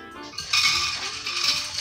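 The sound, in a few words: dried beans dumped into a crock pot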